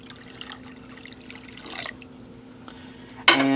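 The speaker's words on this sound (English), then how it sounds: "Now it's time to pour the citric acid into the milk." A citric acid solution pours into milk in a kitchen, a soft trickling with a few drips, ending in a sudden louder splash and ringing clink of the vessel.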